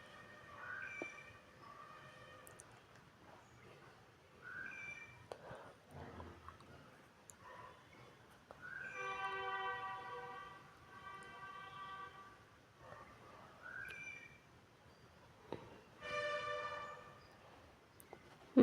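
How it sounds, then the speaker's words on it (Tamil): A kitchen pressure cooker on a stove gives two drawn-out, tonal whistles, one midway and one near the end. Both are fairly faint and come amid quieter background noise and some talk. "ஒரு விசில் வந்துடுச்சுங்க."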